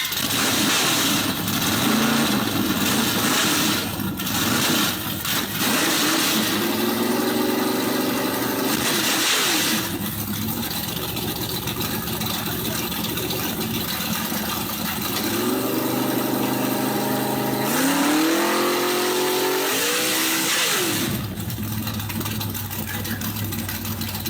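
A small block Chevy engine runs loud and close, idling roughly between repeated revs that climb and fall, with brief dips where the throttle drops back to idle.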